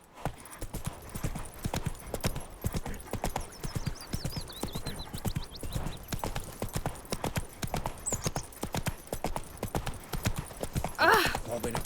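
Roach, a horse in The Witcher 3, gallops with steady rapid clip-clop hoofbeats throughout, close and loud, with a brief whinny near the end and faint ambient game sounds.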